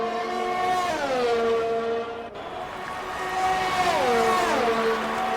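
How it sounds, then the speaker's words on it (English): Engine whine from F1 cars in a racing video game at Monza rises and falls in pitch as they pass and shift, with a second car sweeping through later; loud and steady, with no talk over it. "And there's a car exiting the pit lane now."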